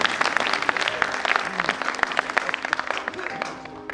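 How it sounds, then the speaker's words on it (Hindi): An audience at a Hindi poetry recital claps steadily for several seconds, dense and even, with a few sharper individual claps standing out. "ताली बजा दीजिए एक बार,"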